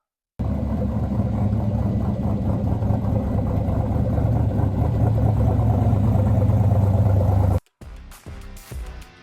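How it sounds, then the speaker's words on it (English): A deep V8 exhaust with stainless SLP mufflers on a truck rumbles steadily with a choppy, lopey idle for several seconds, then cuts off, leaving quieter background noise. "You can really hear that chop."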